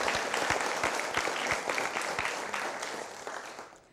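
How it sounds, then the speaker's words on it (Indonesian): Studio audience at a morning TV quiz show applauds the judges, dense clapping with a rhythmic beat of regular low thumps underneath, fading down over the last second. "saya minta tepuk tangan yang meriah untuk para juri kita pagi hari ini"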